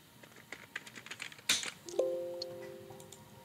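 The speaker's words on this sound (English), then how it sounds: "we're gonna press Windows R and we're gonna type prefetch" Computer keyboard being typed on in quick light key taps, then a louder key hit, followed by a short two-tone system chime that rings out and fades.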